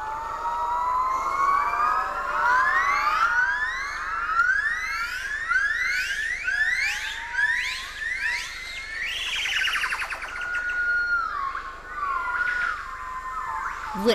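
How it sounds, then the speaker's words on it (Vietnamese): Yellow-cheeked gibbons singing loudly in a forest canopy: a long series of rising, whooping glissando calls that build in pitch and speed, then break into a fast warbling climax, ringing out over faint forest ambience. "Vượn đen mã hung đánh dấu lãnh thổ của chúng bằng những âm thanh ồn ào thay vì các dấu hiệu vật lý"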